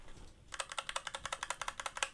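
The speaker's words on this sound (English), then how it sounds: "And that noise is the plastic surround actually bottoming out." Mechanical keyboard switches with the keycaps removed click as their plastic surrounds bottom out during typing. About twenty crisp clacks come in a quick, even rhythm after half a second of near quiet.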